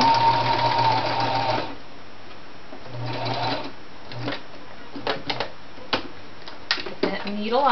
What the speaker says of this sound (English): using a mechanical sewing machine